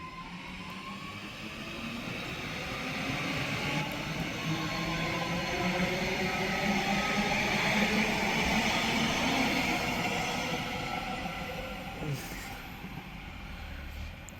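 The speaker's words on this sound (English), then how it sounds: "And there that train goes off in the distance" Northern class 331 electric train on the West Coast Main Line at Heaton Chapel, departing towards Manchester Piccadilly: a broad, steady rumble that swells and then slowly recedes into the distance, with faint rising whine.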